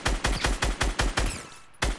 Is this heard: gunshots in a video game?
yes